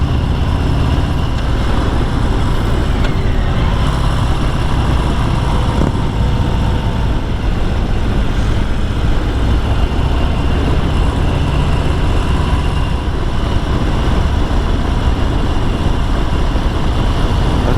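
Harley-Davidson Heritage 114 motorcycle cruising on an interstate highway near 80 mph, a continuous loud roar of engine, road and wind noise that holds steady throughout with no talking.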